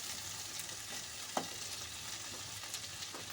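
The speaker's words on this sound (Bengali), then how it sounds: "টমেটোটাকে দিয়ে নিলাম, দিয়ে একটু নাড়াচাড়া করে নেব" Chopped tomatoes fry in hot oil in a pan for a mustard-paste fish curry, giving a steady close sizzle, with one sharp spatula clack as they are stirred partway through.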